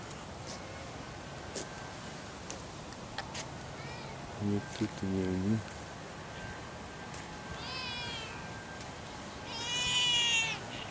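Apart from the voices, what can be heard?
cat meowing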